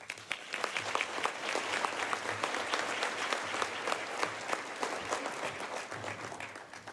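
An audience claps to welcome author Brad Meltzer at a Forum Club speaking event, steady dense applause from a full room that holds evenly and eases slightly at the end.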